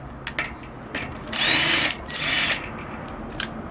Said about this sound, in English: Screw this together. Go slow if you're on impact, or just hand tighten it.